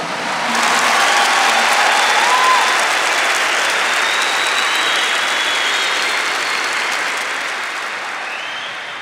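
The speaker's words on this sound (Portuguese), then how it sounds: "Give the Lord the biggest clap for that." A church congregation applauds during a service led by a Catholic priest, with dense, loud, sustained clapping that fills the whole stretch and eases off slightly near the end.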